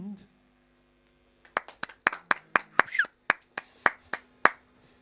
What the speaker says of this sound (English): That was a bit of a small clap.